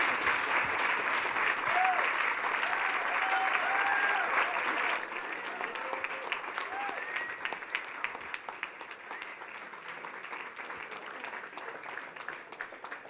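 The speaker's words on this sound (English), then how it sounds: "Let's give a big round of applause to Seth Porges." Sustained applause from a large audience after a talk, dense clapping at full strength that gradually thins and softens, with a few voices and cheers mixed in.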